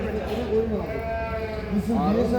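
Several sheep bleat nearby at a livestock market in Çorum, their wavering cries overlapping amid a busy background.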